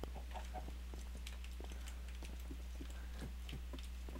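Chickens cluck in short, scattered bursts inside the Minecraft video game, with sharp mid-range chirps over a steady low hum and no talking.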